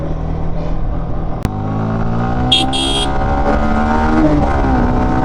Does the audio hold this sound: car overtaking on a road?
yes